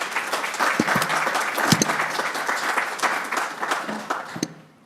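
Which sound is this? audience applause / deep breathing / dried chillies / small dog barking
audience applause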